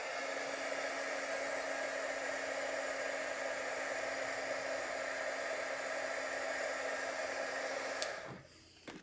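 Steady, loud hair dryer roar blowing on a wet watercolor painting, running unbroken for about eight seconds before cutting off abruptly.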